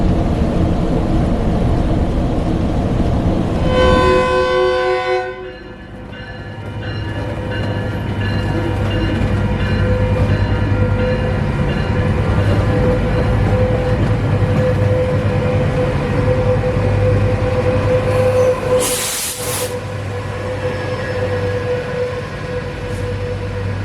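Inside a Metrolink commuter train in Southern California near Camarillo, a loud, steady rumble of the moving car runs throughout. A high tone rings out early, with a brief sharp burst later.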